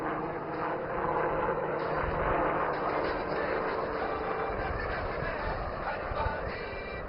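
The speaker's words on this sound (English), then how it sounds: "the LUH accelerates away, positioning for the most challenging stall turns" Continuous loud rotor and engine drone of an LUH light utility helicopter flying at an air show, steady throughout with slight swells, heard from a distance across open ground.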